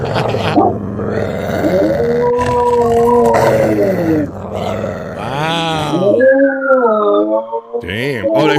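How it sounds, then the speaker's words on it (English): Dogs howling in the background of a live stream, long rising and falling wails that carry on for several seconds while people talk over them. "You hear the dogs howling?"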